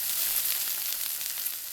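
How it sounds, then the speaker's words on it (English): A pork chop sizzles in a hot pan with a dense, steady crackling hiss, close and continuous, with no voices over it. "the sound of the sizzle"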